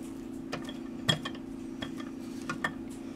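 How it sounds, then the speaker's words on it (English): A spatula scraping down the sides of a mixing bowl of coffee cake batter, a few light scattered clinks and scrapes over a steady mixer-like hum, close and fairly quiet. "I'm going to go ahead and scrape my bowl down really quick"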